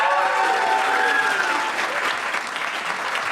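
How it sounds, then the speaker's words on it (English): A stand-up comedy crowd applauds a comedian taking the stage, with loud continuous clapping and a brief whoop or whistle rising near the start before the clapping carries on evenly. "Please start whooping and cheering and applauding"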